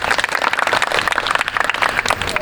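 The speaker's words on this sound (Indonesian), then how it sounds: "Tepuk tangan dulu untuk kelompok 2." A classroom of students applauds a group's presentation, with dense, uneven clapping that stays loud through the whole short burst.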